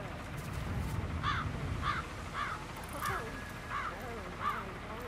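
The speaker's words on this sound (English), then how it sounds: "It's the birds. They're making a racket, droppings everywhere." Crows caw in a regular series of harsh calls, about six spaced through the scene in Hitman 3's Dartmoor level, over a busy ambient game background with some voice-like murmur.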